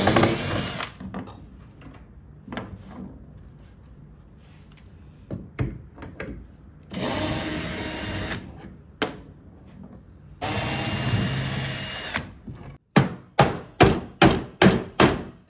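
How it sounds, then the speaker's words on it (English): Screws being backed out and a hammer knocking the base off an old auction dresser during a furniture flip, with bursts of power driver whirring between scattered clanks, ending in a quick run of sharp, close hammer blows. "I'm going to unscrew every screw that I see, and then I'm just going to knock it with my hammer and get it off."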